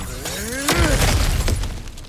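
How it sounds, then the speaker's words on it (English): Cracked ground smashed open in God of War Ragnarök, a loud shattering crash with rumbling debris that tails off over about a second and a half, preceded by a brief rising game cue. "back to smashing through things for fun and profit"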